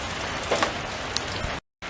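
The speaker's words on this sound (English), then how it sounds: "It's raining again." Steady rain hisses down around a Nissan Versa during cowl cover and wiper work outdoors, a constant close wash of drops with a few sharper taps, briefly cut to silence near the end.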